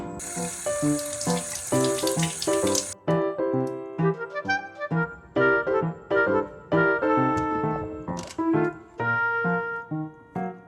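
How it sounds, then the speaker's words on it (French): Dates washed under a running kitchen tap: a gushing stream splashes for the first few seconds, then continues in bursts beneath prominent tonal music, close and fairly loud. "On va commencer par laver les dattes et retirer le noyau."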